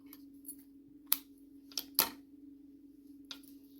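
Scissors snip through crochet yarn in a few short, crisp cuts, spaced irregularly and fairly quiet against a steady low electrical hum.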